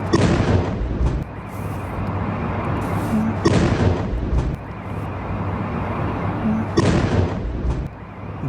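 Large explosions from a Russian ballistic missile attack on Kyiv, three heavy blasts spaced a few seconds apart, each a sharp loud crack followed by a long rumbling roar.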